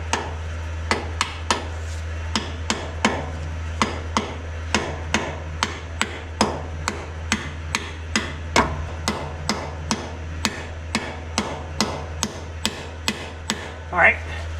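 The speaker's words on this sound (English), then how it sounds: "Now, that bearing fits right up inside. I'm going to take my dead blow hammer." A dead blow hammer taps a bearing into place on a Kubota, steady regular knocks about two per second, close and crisp over a constant low hum.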